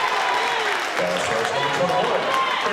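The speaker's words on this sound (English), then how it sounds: "The crowd really getting into it." A basketball crowd at a high school game cheers steadily after a steal, a dense roar of students' voices filling the gym, with a commentator's voice talking over it throughout.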